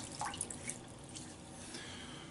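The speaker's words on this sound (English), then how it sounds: "Add more water to the face." Water splashed onto the face by hand during a wet shave at a sink, a few soft wet splashes and drips close by with no talking.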